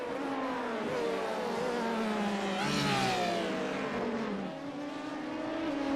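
A race car, number 66, in a sports car racing game at Sebring, sweeps by with a rising then falling engine whine, loud and close at mid-pass, alongside other car engines droning steadily.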